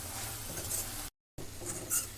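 Spicy mutton fry being stirred and fried in a pan, a steady close sizzle with scraping stirring sounds, cut by a brief silent gap midway.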